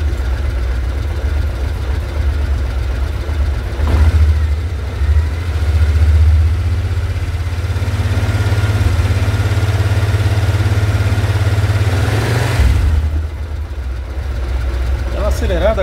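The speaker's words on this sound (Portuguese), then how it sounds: "Nós vamos acelerar a moto agora." A motorcycle engine idles with a steady low rumble, then rises in pitch as it is revved and held, before dropping back toward idle, close up and loud, during work on its stator and rectifier kit.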